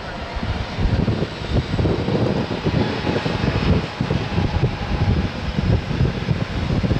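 Boeing 757 taking off from runway 10 at Tampa airport, a steady broadband engine roar sustained throughout at fairly close range, with faint voices in the background.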